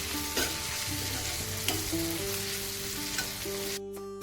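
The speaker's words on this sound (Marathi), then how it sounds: "आणि आता हे पण चांगलं परतवून घ्यायचं आपल्याला" Onion and tomato with grated fresh coconut sauté in a pan for a tender cashew curry, making a continuous crackling sizzle with stirring scrapes over faint tonal background music that cuts out briefly near the end.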